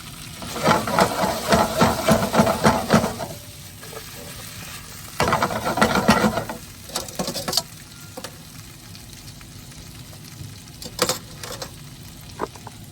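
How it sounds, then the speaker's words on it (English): Vegetables fry in a pan for chicken and vegetables in green peppercorn sauce, sizzling loudly up close with bursts of stirring and scraping, then a softer, steady sizzle between occasional clatters. "Now you don't want to fry up the veggies too much, just enough to get them started."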